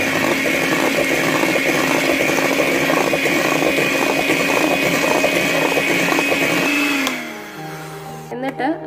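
Electric mixer running at low speed through banana cake batter with vanilla essence, a steady close whirring drone for about seven seconds that then winds down and cuts out.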